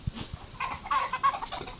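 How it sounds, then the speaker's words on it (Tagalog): Pet chickens cluck during rain in a few short, fairly quiet bursts of clucking calls over a soft background. "Kawawa na guys yung ating mga alagang manok."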